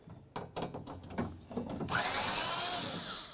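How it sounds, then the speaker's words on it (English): Plate screws coming out of the door of a 2003-08 Toyota Matrix during a front window regulator replacement, worked with a Phillips head driver: a few sharp ticks and clicks, then a steady close whirring grind. "Let's go ahead and remove this plate right here using a Phillips head screwdriver."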